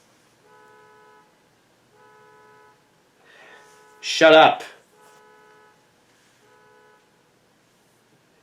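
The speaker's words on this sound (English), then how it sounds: "Now one of my neighbor's cars' horns is screaming." A neighbor's car horn blares once, loud and close, between repeated electronic beeping tones, and someone shouts briefly over it.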